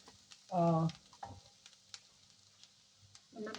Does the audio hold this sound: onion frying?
yes